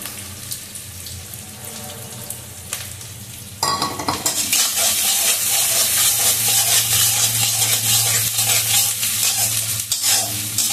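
Ingredients being stirred and fried in a pan while they are cooked down, with a steady sizzle and scraping that grows louder partway through and stays dense to the end, with no voices.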